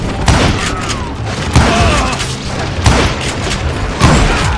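Gunfire in the Western shooter Call of Juarez Gunslinger: four heavy booming shots spaced about a second apart, each with a rumbling tail, over layered game effects and a faint voice.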